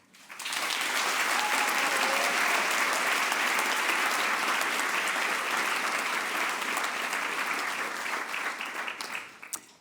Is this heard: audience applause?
yes